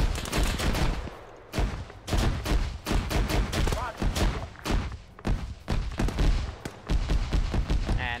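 Anti-tank shot and bursts of rifle and machine-gun fire in the Arma 3 military game, a dense run of sharp repeated reports and thuds with a voice talking over parts of it.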